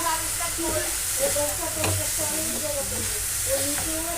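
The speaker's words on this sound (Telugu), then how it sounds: "బాదం వేసుకొని కలుపుకుందాం. చూడండి దగ్గర పడుతుంది, మంచిగా కలుపుకోవాలి." Carrot halwa with almonds being stirred in a pan, thickening as it cooks, with a continuous sizzle and scraping stirs of a spoon against the pan, close up and steady with no talk.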